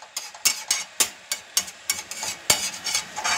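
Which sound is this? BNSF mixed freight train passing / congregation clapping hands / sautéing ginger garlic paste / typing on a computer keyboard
sautéing ginger garlic paste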